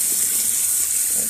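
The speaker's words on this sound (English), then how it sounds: "So the water is going in here." Warm water from a portable water heater runs steadily into a salon shampoo bowl, a loud continuous hiss and splash heard up close with no talk.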